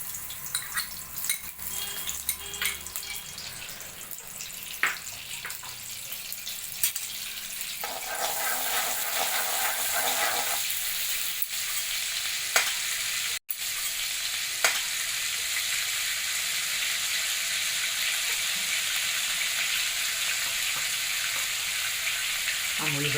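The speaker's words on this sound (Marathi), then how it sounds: "त्या तेलामध्येच आपण हे अमूल बटर पण घालून घेणार आहोत." Amul butter melts into hot oil left over from frying vegetables, for a hotel-style Veg Kolhapuri gravy. A continuous sizzle grows louder and denser over time, with a few faint clinks of utensils.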